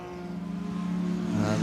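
The Inception racing car number 70 passes with a rough, unhappy-sounding engine note during an IMSA GT race at VIR, rising in pitch and level as it approaches.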